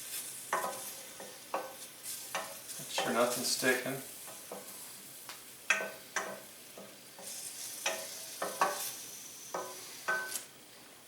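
Hot oil sizzling and spitting in a pan on a gas stove while vodka sauce is cooked, with repeated stirring scrapes and clicks over a steady crackle, close up; someone talks briefly.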